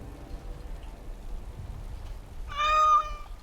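A tabby kitten in Dragon Age Origins gives a single short, odd-sounding meow near the end, alone over a low background hum and faint rain-like hiss.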